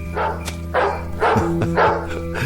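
A dog in a radio drama gives four evenly spaced, close, loud barks over a low sustained musical drone.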